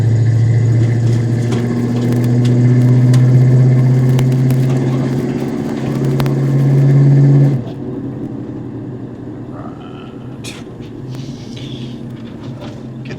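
A 1988 Ford Mustang Saleen Convertible with a 5.0 automatic runs with a steady, loud low engine drone that swells toward a rev around seven seconds, then drops to a quieter idle with faint interior rattles.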